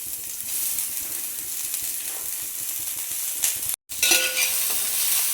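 Chopped onions sizzle steadily in hot oil with dried red chillies, cloves and pepper, a dense continuous frying hiss with soft scraping as they are stirred, briefly cut off by a short gap before resuming.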